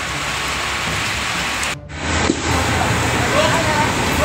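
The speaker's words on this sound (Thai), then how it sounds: "ตอนนี้นะครับฝนตกนะครับ" Steady rain falling at a burnt mattress factory after a fire, a dense continuous hiss that briefly cuts out, then resumes, with someone speaking over it.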